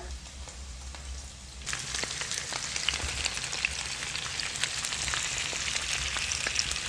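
Salmon fillet dropped into a pan with heated garlic and onion, a steady broadband sizzle jumping louder partway through and holding with crackling pops, no talking.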